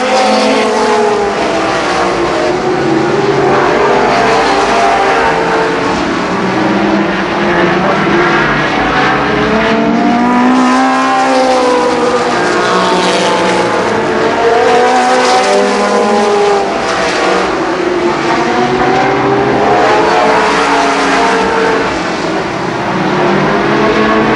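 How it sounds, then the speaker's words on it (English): Stock race cars roaring around Columbus Motor Speedway in 1991, a continuous loud engine drone with rising and falling pitch as cars pass close by, no voices. "That 73 car moving around Scott Stovall"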